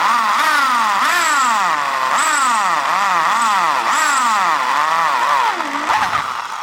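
A power drill bores through aluminium boat plate, its motor whining loud and close in repeated rising and falling surges as the bit bites and eases, running steadily for several seconds before cutting off.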